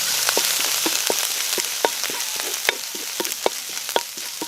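Ginger sizzles and sputters in hot oil in a pan, with a steady close frying hiss broken by frequent sharp crackles and pops, and no voices.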